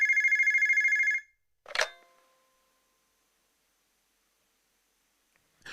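A telephone bell rings in a steady electronic trill for about a second, followed by a sharp click like a handset being picked up, then silence with another brief click at the end.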